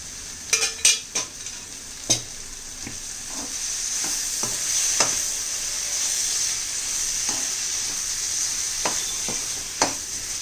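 Tomato rice fries in an oiled pan with a constant soft sizzle, while a utensil stirs and scrapes the pan in scattered sharp clinks, some grouped closely at first and then more spaced out.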